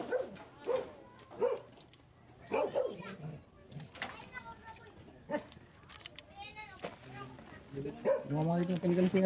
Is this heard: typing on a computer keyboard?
no